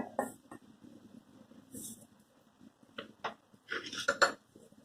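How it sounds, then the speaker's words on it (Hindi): Metal pots and utensils clank and clink several times as a pot is set over a pan of boiling water for melting chocolate, a cluster of sharp knocks near the end, with quiet background between. "हम उस पे अब बर्तन रखेंगे।"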